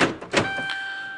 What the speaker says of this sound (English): Now, maybe you just heard the lock cycle.